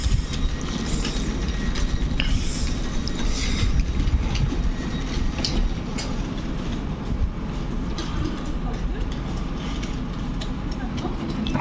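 Trains at Łowicz Główny station platform: a loud, steady rail rumble with rhythmic wheel clatter and occasional squeals, close by and continuous, with faint voices mixed in.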